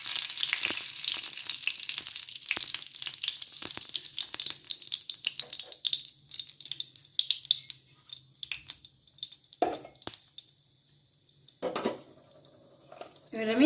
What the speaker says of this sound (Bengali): এবার আমি ফোড়নে কালো জিরাটা ফোড়ন দিয়ে দেবো।